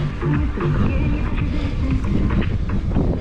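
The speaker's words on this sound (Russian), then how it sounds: "Ну да, ведь ветер есть." Wind gusting at the Crimean seaside, a loud, steady rumbling buffet against the microphone with low, uneven surges throughout and no voices.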